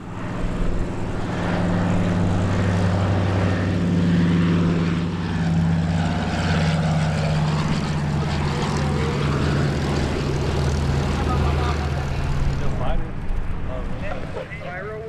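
Several C-47 Dakota twin piston-engine propeller transports fly past at the EAA AirVenture Oshkosh 2019 airshow, a steady loud droning roar with pulsing tones that swells and holds before easing toward the end, with a commentator speaking over it.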